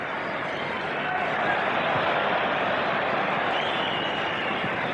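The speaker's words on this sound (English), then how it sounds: "It's the Brazilians they're applauding at the moment" Spectators in a football stadium at a France versus Brazil match applaud in a broad, continuous wash of distant clapping and crowd noise, steady throughout.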